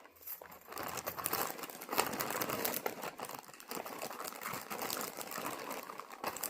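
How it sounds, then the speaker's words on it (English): Crinkling of a plastic zip-pull bag, close and steady, with dense crackling that keeps going for several seconds and no talk over it. "they also sent out the order in a handy little plastic bag that has a one of those pull zip things on it"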